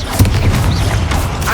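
A Confringo fire-blast spell explodes in the video game Hogwarts Legacy, a single deep thump early on followed by a low rumbling roar that lingers for over a second.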